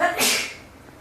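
A single close, sharp sneeze bursts out indoors and fades quickly, standing alone in an otherwise quiet room.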